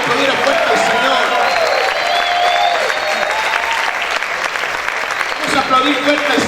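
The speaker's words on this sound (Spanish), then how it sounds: "Si yo fuera usted, gritar y aplaudir a fuerte al Señor." Church congregation clapping loudly and shouting praise to the Lord during a Spanish-language service, a sustained dense roar of applause mixed with raised voices and cheers throughout.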